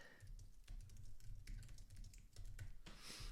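Soft, fast typing on a computer keyboard, with steady key clicks close by and no voices.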